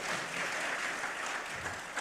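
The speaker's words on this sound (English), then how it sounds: "another round of applause." Audience at a concert of piano music gives a round of applause for the page turners, a steady, dense wash of clapping hands from a fairly distant crowd, with no voices standing out.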